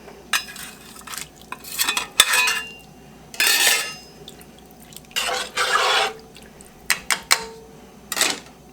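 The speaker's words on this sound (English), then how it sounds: "I'm going to add my can of beans. My garlic cloves." A can of beans and garlic cloves go into a pot of white chicken chili: a few distinct bursts of pouring, clinking and scraping against the pot, separated by short quiet gaps, close and clear with no talk.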